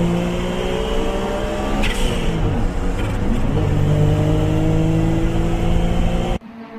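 A Suzuki Cappuccino and a Swift race wheel to wheel on a circuit, their small engines droning and revving steadily up close with shifting pitch as they fight for position, ending abruptly.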